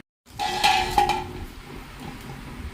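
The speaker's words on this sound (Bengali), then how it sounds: "তো এই দেখো কেটে নিচ্ছি মাছটা" A whole hilsa fish being cut on a boti blade in a home kitchen, with a few close metallic clinks and scrapes followed by quieter handling and a faint background hum.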